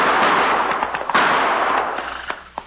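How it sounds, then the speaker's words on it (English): A burst of gunfire sound effects in a radio drama: several sharp cracks with echoing tails over a rumbling wash, loud and dense at first and trailing off. "Not only did I hear those gunshots, Cherokee, but now I can see where they came"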